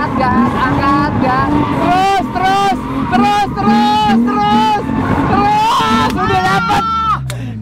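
A car engine revs hard in repeated bursts as the throttle is lifted and pressed again while drifting, its pitch wavering up and down, with voices talking over it.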